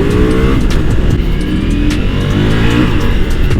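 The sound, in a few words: Ducati Multistrada V4S motorcycle accelerating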